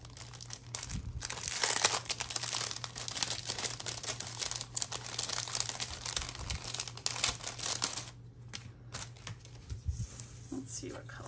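Ribbon for an Easter card is pulled out and handled, giving close, continuous crinkling and rustling that drops off near the end, with a voice speaking at times.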